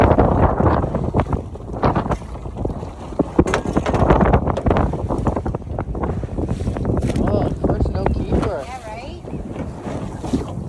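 Wind buffets the microphone over open water in the back bays near Ocean City, Maryland, with a steady rumbling roar and the creak and slosh of a small crabbing boat rocking.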